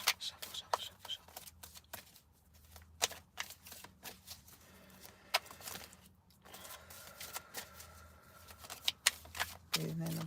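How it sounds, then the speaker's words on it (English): A deck of tarot cards is shuffled by hand in quick, crisp riffling bursts that repeat with short pauses, and a voice is heard at times. "Shuffle, shuffle, shuffle, shuffle."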